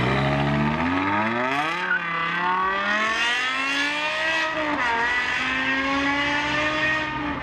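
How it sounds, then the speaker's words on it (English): BMW M5 E60 with its 5-liter V10 of 507 horsepower, revving hard through rising gears with a high, wailing engine note, loud and close, with a brief shift dip partway through and no talk. "you had a unique V10 5-liter engine that produced 507 horsepower and has a great sound, crazy sound"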